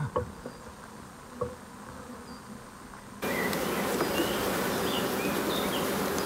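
Honey bees buzzing during work at the hives, first a quieter buzz with a few passing insects, then an abrupt jump to a loud, dense, continuous hum close by.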